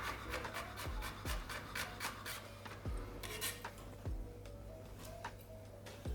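A knife slices garlic cloves on a wooden cutting board with quick, regular tapping strokes and a light scraping rasp, all close and fairly quiet.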